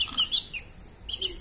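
Short high chirps from a sparrow, two quick bursts near the start and another pair near the end, close and moderately loud, with a quiet gap in between and no talking.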